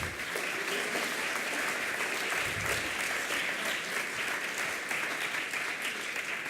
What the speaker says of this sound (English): Big applause for CryptoManiacs.